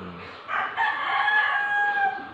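A rooster among newly arrived Taiwan birds crows once, a drawn-out rising and falling call over soft background noise, close and clear.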